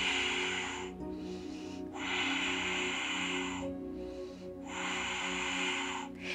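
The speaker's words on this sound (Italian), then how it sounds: "Respiro qua." Slow, deep breathing during a yoga class pose, with long airy inhales and exhales alternating in a steady rhythm, close and clear over a faint humming background.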